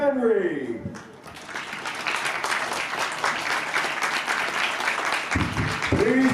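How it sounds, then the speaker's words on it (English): A crowd at a high school baseball game applauds seniors and their coach, sustained clapping from many hands at moderate distance, with a voice briefly heard at the start and end. "Please give a huge round of applause to our 5 seniors and our coach."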